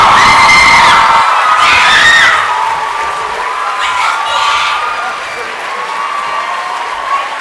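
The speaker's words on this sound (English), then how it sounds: "keep the round of applause as Daniel leaves the stage" A large comic convention crowd in London applauds and cheers for Daniel Radcliffe leaving the stage, loud sustained clapping with high screams and whoops rising early, then easing into steadier applause.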